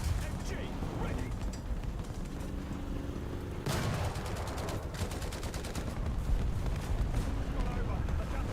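A tank's machine gun firing in a video game, with bursts of rapid gunfire and heavier booms under a steady battle rumble, with a sharp blast partway through and further clusters of shots afterward.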